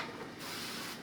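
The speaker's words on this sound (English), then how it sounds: "and then I'm going to spray it one more time" A soft, steady hiss of aerosol cooking spray onto fries, continuous and close, with a slight change in tone partway through.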